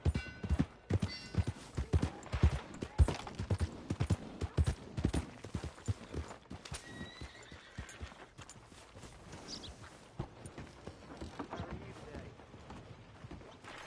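Rapid horse hooves clip-clop in a dense, fast rhythm in the video game Red Dead Redemption 2, loud at first and then easing, with faint neighing and background game voices.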